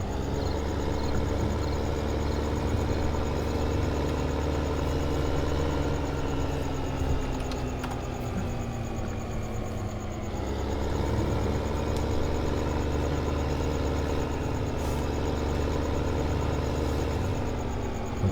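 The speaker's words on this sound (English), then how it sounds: "There's another tractor heading this way." Tractor engine idling and droning steadily in Farming Simulator 15, on the Melbury Estate map, a low continuous hum with a slight dip in pitch partway through, alone without talk.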